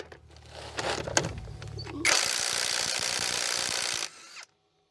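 Cordless impact wrench, a TB21-I from The Black Tools, removes a long-seized, rusty wheel nut from a pickup truck: handling clatter, then a loud, continuous whirring hammer burst lasting about two seconds before cutting off.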